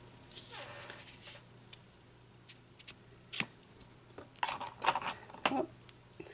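Scissors cut paper for a ladybug peekaboo flip card, heard as a few quiet, close snips and rustles, mostly toward the end, over a faint background hum.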